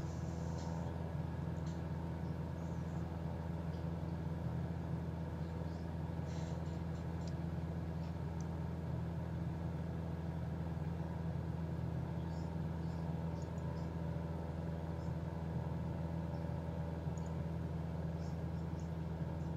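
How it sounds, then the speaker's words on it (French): A small light aircraft's propeller engine drones steadily and loudly while climbing, a constant low hum with no pauses or talking. "il a du mal à grimper avec son petit moteur là"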